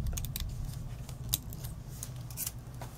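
Scissors snip through a small paper circle to cut it in half, giving a few sharp, close crisp cuts over a quiet background.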